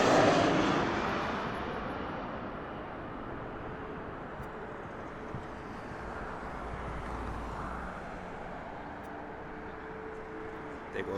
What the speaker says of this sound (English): There goes that Lynx flight in the background.